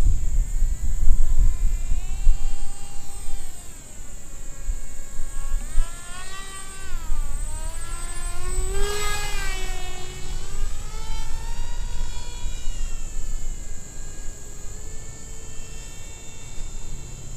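A model airplane makes low passes at low throttle in a light wind, its thin motor whine and buzzing drone swelling and dipping in pitch as it sweeps past, with a steady high tone above.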